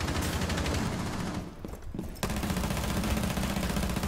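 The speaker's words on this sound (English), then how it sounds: "Oh, I shot him in the head, dude." Rapid automatic gunfire in Rainbow Six Siege, a dense stream of loud shots that pauses briefly near the middle before the burst resumes just as hard.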